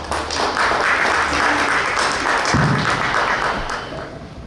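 A strong round of applause from the audience at a horror literary gathering, steady dense clapping that carries on for several seconds before tapering off.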